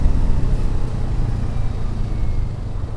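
A 2024 Kawasaki Vulcan S 650 motorcycle pulls hard in first gear, its engine a steady, close, deep low rumble with no voices over it.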